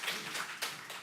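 A church congregation applauds to welcome newly registered members during a Korean Sunday thanksgiving worship service, a soft, diffuse wash of many hands clapping at a moderate distance, with a few sharper claps standing out, and no talking.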